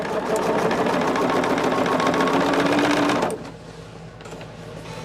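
A sewing machine runs steadily, stitching a quilt sashing row at close range for about three seconds, then stops, leaving quiet room tone.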